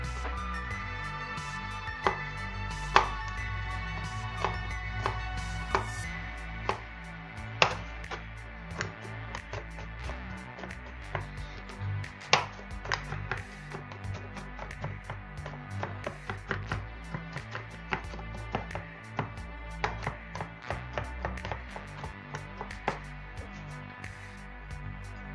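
A knife chops garlic on a board in a quiet kitchen, with soft irregular taps and occasional sharper knocks spread across the whole stretch, faint and close.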